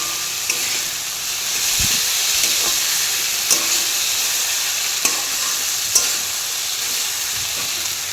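Food frying and being stirred in a pan, a steady close sizzle with occasional sharp spatula scrapes and clicks against the metal, and no voices.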